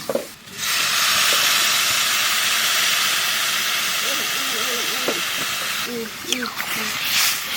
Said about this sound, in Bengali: আলুর কলা ভাজা হয়ে গেছে এখন জল দিয়ে